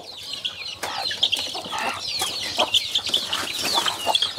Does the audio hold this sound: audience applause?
no